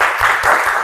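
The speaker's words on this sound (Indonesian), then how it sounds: "Tepuk tangan dulu." A secondary school class in Indonesia applauds after a student presentation, with a brief, loud burst of close clapping that lasts under a second.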